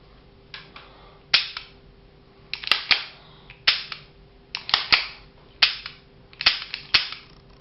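Taurus PT92 pistol undergoing a function check after reassembly, with a string of sharp metallic trigger and slide clicks, about a dozen close, crisp snaps at an uneven rhythm with brief pauses between them.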